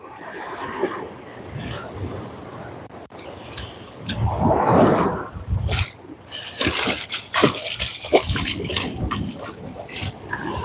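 Ocean waves roll onto the beach during surf fishing, with a broad rushing wash that swells and fades, mixed with wind buffeting the microphone and occasional nearby knocks.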